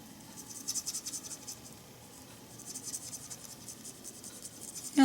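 Colored pencil moves over paper in small circular motions, a faint soft scratchy rasp in quick repeated strokes, close up and alone, with a brief knock at the end.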